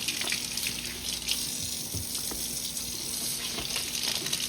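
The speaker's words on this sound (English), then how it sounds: "Give them a wash." Tap water runs steadily into a sink while produce is washed for guacamole, a continuous close splashing hiss with no voices.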